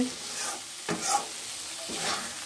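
Fish and potato curry frying in a pan, a soft sizzle broken by a few close scraping strokes of a spatula stirring.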